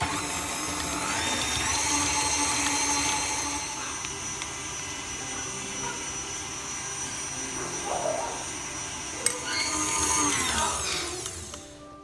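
An electric mixer whips cream into chantilly with icing sugar for a chocolate Christmas yule log, giving a steady, fairly loud motor whine throughout with a brief clatter near the end.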